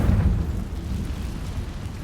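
A Confringo fire spell exploding in the video game Hogwarts Legacy, a single deep, rumbling boom that hits hard at the start and decays into a low roar over two seconds.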